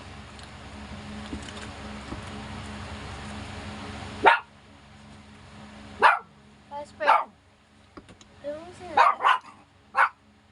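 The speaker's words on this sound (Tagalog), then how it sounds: "Nangingay aso ko." A dog barks several times in sharp bursts nearby after a steady background hum cuts off, with a person speaking briefly between barks.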